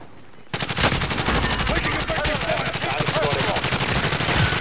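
Video game gunfire, loud and close, breaking out after a short quiet start into a rapid, sustained automatic burst with rounds fired in quick succession to the end.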